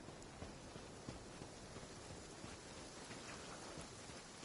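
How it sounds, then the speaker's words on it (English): Rain falls steadily in Genshin Impact, a continuous broadband hiss of drops with faint scattered taps, even and unbroken throughout and with no talk. "Rain? Go, go, go! We gotta find some cover before we get soaked."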